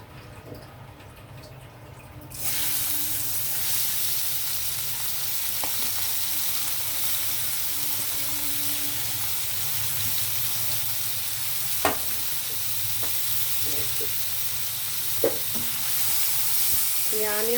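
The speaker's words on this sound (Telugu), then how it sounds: "ఈ ఆయిల్ హీట్ అయిన తర్వాత మనం డైరెక్ట్ ఆనియన్ వేసేయడమే." Onions drop into hot oil in a kadai and fry with a steady loud sizzle, with occasional scraping stirs and clinks of a spoon close by.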